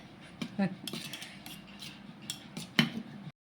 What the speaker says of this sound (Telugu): దీన్ని కూడా ఒకసారి బాగా కలిపేసుకోవాలి